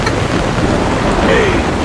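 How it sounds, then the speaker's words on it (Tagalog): Heavy rain pours steadily and loudly on a seaside camp tent during a tropical storm at Kabilin Cove, a dense, continuous wash of drops with no clear thunder clap standing out. "Ang lakas ng ulan"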